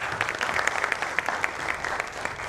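An evening session audience gives a speaker a round of applause: dense, steady clapping at moderate volume with individual claps standing out, lasting a couple of seconds.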